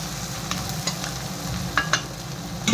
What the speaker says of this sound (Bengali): পেঁয়াজ আর কাঁচা লঙ্কা লাল লাল করে ভেজে